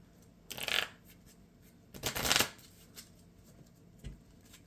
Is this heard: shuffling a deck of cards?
yes